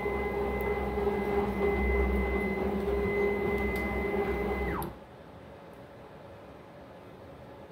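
A well-used rack and pinion CNC machine makes a long rapid traverse, a steady loud whine with a rising motor tone that cuts off sharply, leaving low background hum.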